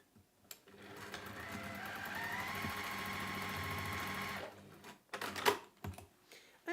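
Sewing machine stitching across the seam of a fabric octopus pouch, a steady whirring run of about four seconds, close and alone, followed by a few sharp handling clicks and knocks.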